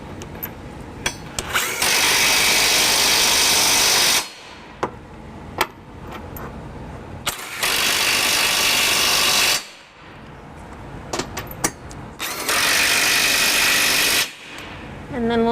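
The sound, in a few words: electric drill with deep 22mm socket snugging trailer hitch bolts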